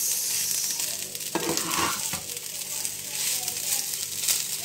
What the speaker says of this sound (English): fry fried rice with onions, garlic, yan at yung slice ng hotdog na maliit